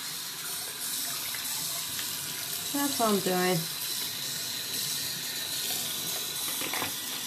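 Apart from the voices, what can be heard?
water running through spray gun while cleaning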